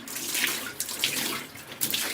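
Water is poured over a screen-printing film to rinse off the emulsion, a continuous close splashing rush with a few brighter spatters and no voices.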